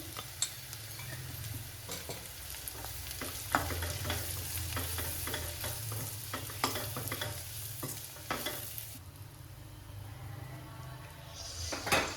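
A ground peanut and green chili mix fries over a low gas flame for Maharashtrian aloo bharta, with a steady sizzle under repeated scraping stir strokes that quiet down near the end.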